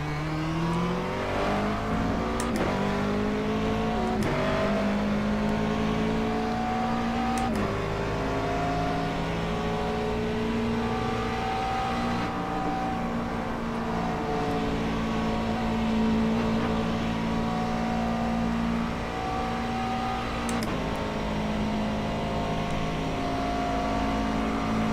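A McLaren 12C GT3 race car at Spa in iRacing, its engine droning loud and close as it climbs through the gears, revs rising and dropping in repeated upshifts, with no voices.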